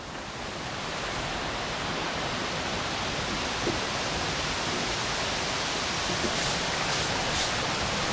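Daranak Falls pours in a steady, loud, broadband roar of falling water that holds constant throughout with no talk.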